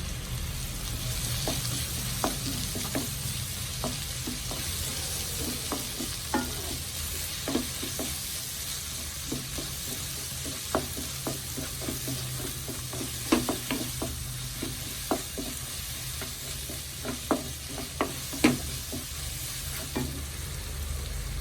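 Prawns fry with ginger garlic paste in a pan, giving a constant close sizzle punctuated by repeated light clicks and scrapes of stirring, with no voices.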